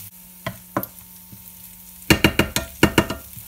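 Garlic frying with onion in a pan, with a faint background sizzle and spoon stirring, scraping bursts that cluster into a quick rhythmic run partway through.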